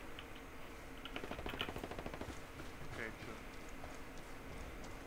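Bursts of rapid gunfire in the tactical shooter Ghost Recon Wildlands, fairly faint and a little distant, rattling through the clip under a busy game mix.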